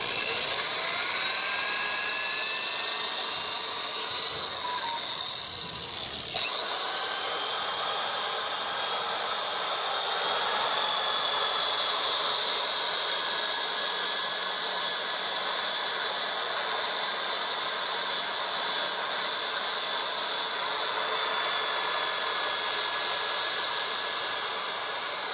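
A buffing wheel polishes a Harley Benton SC 450plus guitar body, giving a loud, steady high-pitched whine that runs continuously, with a brief dip and restart of the motor partway through.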